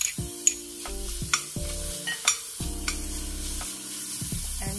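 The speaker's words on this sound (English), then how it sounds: "Fry my ginger," Ginger and garlic fry in a pan for shahi aloo, a soft sizzle with occasional stirring clicks sitting beneath steady melodic background music.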